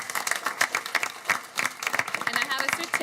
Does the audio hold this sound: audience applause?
yes